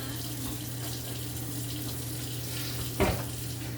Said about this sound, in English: now we're gonna wash your hands real good